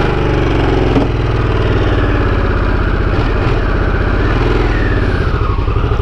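A Harley-Davidson Sportster S motorcycle engine runs at a steady idle, a loud close low rumble with an even pulsing beat and no talking over it.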